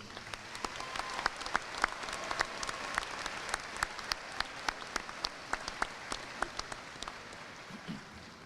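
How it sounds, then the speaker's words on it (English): Applause from the audience at the 2018 Salina Central high school graduation ceremony: a soft, even wash of crowd clapping with scattered individual claps standing out sharply throughout. "Let's give them one more round of applause."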